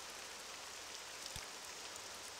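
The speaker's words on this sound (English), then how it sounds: "And now it's raining." Steady rain falls in the video game Morrowind, a dense, even hiss filling the whole stretch at low level, with a brief low thump partway through.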